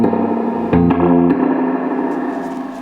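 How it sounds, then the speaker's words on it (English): Fender Deluxe Reverb reissue amp with its reverb set halfway: a sustained guitar chord and a few picked notes ring through the amp, with a reverb tail and no audible hum underneath. "Reverb is on halfway."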